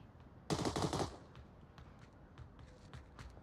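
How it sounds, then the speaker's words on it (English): A rapid burst of gunfire in a competitive shooter video game, a loud, dense volley of shots lasting about half a second, followed by fainter scattered pops and thuds. "Gunshots going out from Torres and Riptide."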